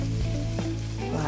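Apple slices coated in batter sizzle steadily as they go into a hot frying pan, a close, continuous crackle with a few soft clinks of utensils and no talking.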